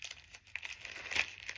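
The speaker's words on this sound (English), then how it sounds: "the crinkling, and I can't find the thing to open it" Plastic packaging crinkles in short, faint crackling bursts, close by and quiet, lasting only a moment with no talk over it.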